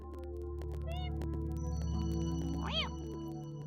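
Voice mimicking a cat, giving a faint, short meow over a steady droning background of game music, with one rising-falling meow-like cry near the end.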